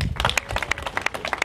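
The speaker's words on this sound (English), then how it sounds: "let us have a loud hand clap for them." A crowd at a Ugandan political rally gives a hand clap for boda-boda motorcycle taxi riders, with sharp, loud, irregular claps close by over a low background murmur.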